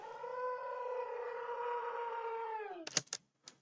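A goat sample played in texture mode and time-stretched to twice its length, giving a long, sustained harmonic drone that holds steady before breaking into a few short, choppy bursts near the end.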